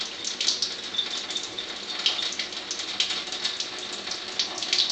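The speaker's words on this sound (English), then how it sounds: "let me try to reduce the flow of this Kangen a little" Water running from an Enagic Kangen SD 501 ionizer tap dispensing 9.5 alkaline water, a steady hissing splash with a reduced flow, constant and fairly quiet, with no voices.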